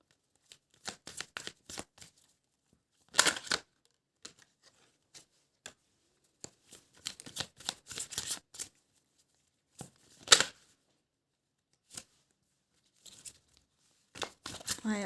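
A deck of tarot cards being shuffled close up, in quick papery riffling bursts separated by short silences, some louder snaps among softer flicks.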